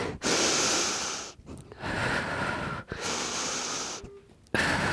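Deep belly breaths during an intense leg and glute strength workout, drawn in and pushed out as steady, noisy airflow in long stretches broken by brief pauses, close and fairly loud with no talking.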